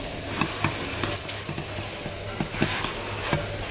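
A heavy high-protein pancake sizzles steadily in a hot pan, with a dense continuous fry hiss broken by several sharp scraping and clattering knocks as a spatula works underneath and flips it.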